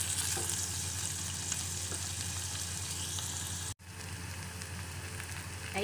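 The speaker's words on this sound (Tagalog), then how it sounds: "Igisa na po natin yung ating sibuyas, bawang, at luya." Onion, garlic and ginger sautéing in a pan, a loud continuous sizzle and crackle of frying with faint stirring, briefly cutting out near the end before resuming.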